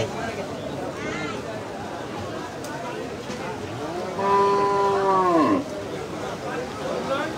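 A cow lets out one long, loud, close moo at a busy cattle market, rising over a steady murmur of background crowd noise and voices.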